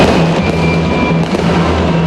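Christmas fireworks display at 8 in the evening, heard as a loud, dense wash of continuous crackling and booming explosions with no pauses over the whole stretch.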